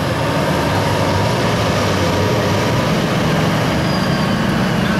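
A heavily built pulling tractor roaring at full power during a truck and tractor pull at Shopiere days, a loud, constant, unbroken engine drone that fills the whole stretch with no talk over it.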